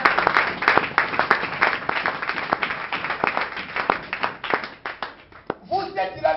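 A church congregation at a worship centre claps steadily in rhythm with cheering voices and acclamation throughout, loud and close, with a voice rising near the end.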